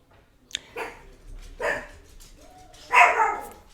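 A small dog barks indoors, three or four short yappy barks spaced apart, the last one loudest, with quiet room tone between them.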